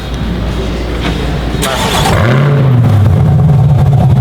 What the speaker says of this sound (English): Remote start this thing.